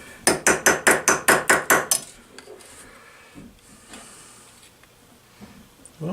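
About eight sharp, evenly spaced hammer taps drive a part out of a 1966 Honda Benly engine, followed by a few faint clinks and near silence.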